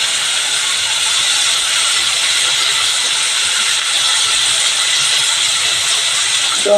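Ivy gourd (tondli) pieces dropped into a hot pan of field beans, giving a loud, steady steam-like hiss and sizzle that runs unbroken from start to finish with no talking.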